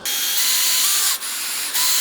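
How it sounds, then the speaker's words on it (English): Steady high whirring of a power drill boring a pilot hole with a 7/64-inch bit while installing entry-door security hardware, close and loud, with two brief dips where the drill pauses before resuming. "I want to drill a pilot hole on each one of these. I'm going to be using a 7/64-inch bit."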